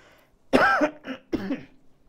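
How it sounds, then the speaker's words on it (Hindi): Two close, loud coughs, a harsh hacking burst followed by a shorter second one after a pause, in an otherwise quiet room. "ऊपर से खांसी"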